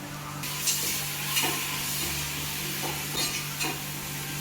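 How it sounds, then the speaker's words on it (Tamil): Onions with mint and coriander frying in a pan, a steady close sizzle and hiss with occasional stirring scrapes, no talk. "இப்போ ஆனியன் கோல்டன் ப்ரௌன் ஆகட்டும்"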